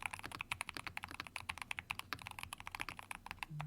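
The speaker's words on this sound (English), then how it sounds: "A full-size Hall effect gaming keyboard with magnetic switches that's actually worth the money." Rapid typing on a Keychron K10 HE full-size Hall effect gaming keyboard with magnetic switches, a dense run of crisp, close keystrokes in steady rhythm, clear and uninterrupted.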